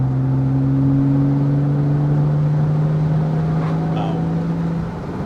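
A Porsche 911 991 Carrera S with a PDK dual-clutch gearbox drives along, its engine holding a steady, close drone with a low hum that fades slightly near the end.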